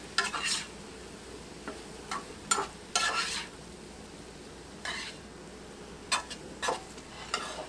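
Skillet sausage with a splash of Worcestershire sauce sizzles softly while a utensil stirs and scrapes the pan in short separate strokes, quiet and close with gaps between the scrapes.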